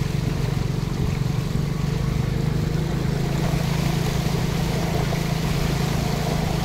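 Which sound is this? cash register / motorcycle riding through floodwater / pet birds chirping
motorcycle riding through floodwater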